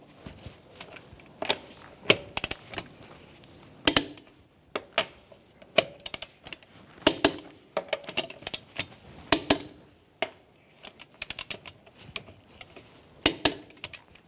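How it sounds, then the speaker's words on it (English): Lug nuts on the rear wheel of a 2014-2018 Subaru Forester are torqued with a torque wrench in a star pattern, a series of sharp metallic clicks and clanks at irregular intervals, nearby and otherwise quiet. "Now we're going to torque our rear wheels to 89 foot-pounds in a star-like pattern."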